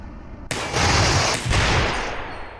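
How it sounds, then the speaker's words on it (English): Gunshots and bullet impacts in the VR shooter Receiver 2 come as a sudden loud blast followed by a second sharp report, each trailing into a ringing echo that fades out. "I don't get tired of hearing those shots or those impacts"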